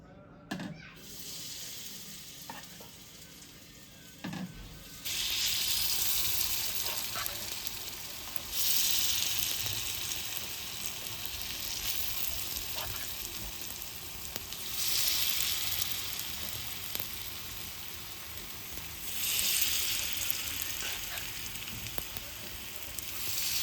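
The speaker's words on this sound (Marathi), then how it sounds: "इथे जे आहे आपण जे बॅटर बनवलं होतं रव्याचं आप्यांसाठी त्यामध्ये जे आहे टाकून घेऊया" Semolina appe batter poured into a hot appe pan sizzles and fries steadily and close, swelling into louder bursts of crackling as each portion goes in, with no talking over it.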